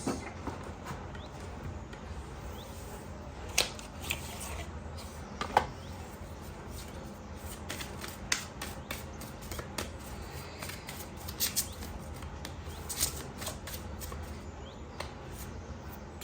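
Tarot cards are shuffled close up in soft, papery riffles and slides, with a few sharper flicks standing out. The shuffling runs steadily and quietly, with no talk over it.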